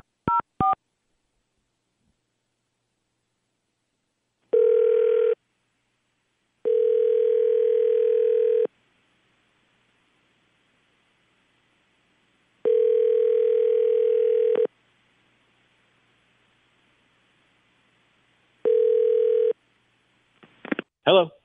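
Telephone dial tone followed by a run of touch-tone dialing beeps as a prank call is placed, loud and isolated bursts separated by silence, ending with brief ringing clicks.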